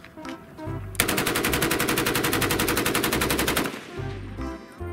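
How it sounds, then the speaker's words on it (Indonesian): A green toy gun fires a long, rapid burst of electronic machine-gun shots for several seconds, loud and close, with short mechanical clicks and whirs before and after. "ternyata ini tembakan."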